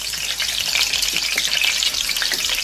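Beaten eggs hitting hot mustard oil in a pan for palak egg gravy, giving a loud, steady sizzle with a dense broadband fry that never lets up, with a few soft stirring taps underneath and no talking.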